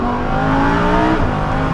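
A Lamborghini Huracan V10 engine is driven hard on a mountain road, a loud, sustained, close roar with dense harmonics holding steady through the full burst, without any voices over it.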